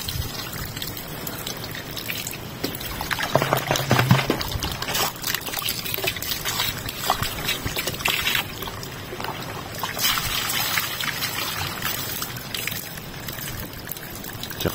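Water is poured and trickles steadily while water is fetched on a farm in Benguet, a continuous splashing flow close by that swells and eases over several seconds.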